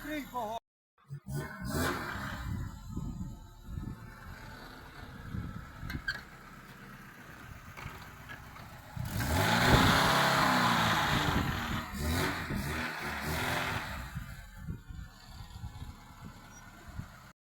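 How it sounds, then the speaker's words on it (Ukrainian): A car drives off outside a home repair garage, its engine rumbling and swelling to a louder pass midway before fading, with people talking nearby throughout. "поїхала й друга машина"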